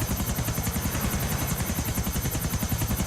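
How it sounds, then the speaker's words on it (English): A helicopter in the video game GTA IV flying in for a crash landing, its loud, steady rotor thumping in a fast, even rhythm throughout, with no distinct impact heard. "So we're going to do a little crash landing here, it saves time."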